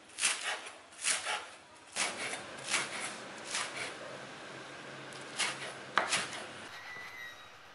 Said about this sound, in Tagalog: Chachap natin siya ng maliliit.